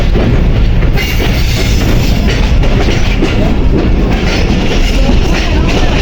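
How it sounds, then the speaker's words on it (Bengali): A train rolls steadily along the rails, a loud continuous rumble with rhythmic clatter and hiss, heard from on board throughout. "রকেট ট্রেনে চড়ে"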